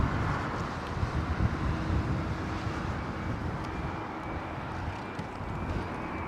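A Boeing 787 roars steadily overhead on arrival at London Heathrow, a broad windy rushing rumble with a faint whine, loud and sustained throughout.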